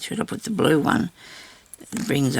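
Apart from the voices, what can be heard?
No everyday noise stands out behind the speech.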